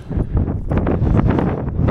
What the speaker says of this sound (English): It feels less windy already.